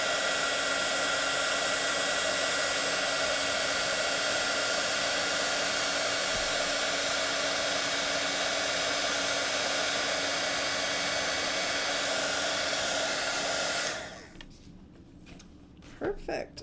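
A craft heat tool blows a steady, loud, close whoosh of hot air while melting clear embossing powder, running for about fourteen seconds before switching off, followed by a few faint handling taps.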